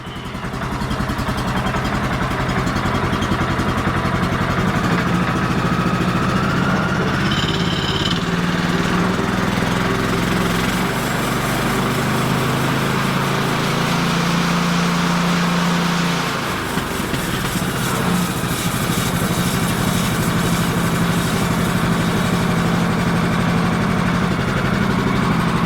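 A small engine runs on five-month-old fuel after sitting almost five months, a loud, steady lawn-mower-like drone that holds an even idle with a slight shift in pitch partway through, with no talk.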